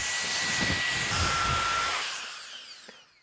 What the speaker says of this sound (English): there's a good battery powered air blower, which I've reviewed here, this little unit here